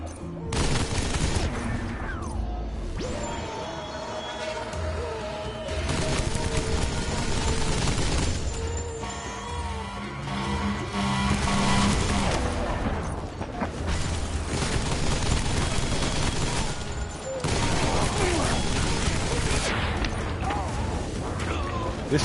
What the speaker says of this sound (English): This turret makes things very, very, very trivial in terms of killing them